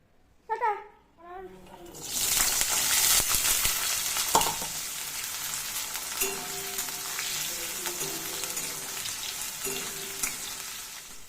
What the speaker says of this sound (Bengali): এখানে ফুলকপি গাজরগুলো আমি এখানে একটু ভেজে নিচ্ছি